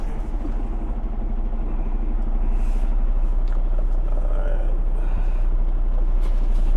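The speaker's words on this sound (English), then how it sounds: "There's a car coming." A car approaches and passes on a tight road, heard from inside the cab of a Peterbilt 389 truck whose engine rumble stays steady and loud underneath, the passing vehicle only a faint swell within the drone.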